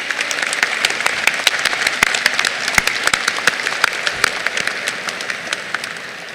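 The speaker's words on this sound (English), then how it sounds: "please give your parents a round of applause" Dense applause from a crowd of graduates thanking their parents on the floor of a Hutto High School graduation ceremony, steady and fairly loud throughout with sharp individual claps standing out, tapering slightly at the end.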